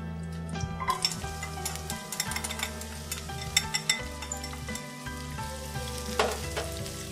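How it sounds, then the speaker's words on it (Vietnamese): Lemongrass, bird's eye chili, galangal, shallot and garlic stir-frying for a Thai hot pot, a steady sizzle broken by frequent scraping and clinking of a utensil against the pan, close and without talk. "Và bây giờ Lisa sẽ xào lên."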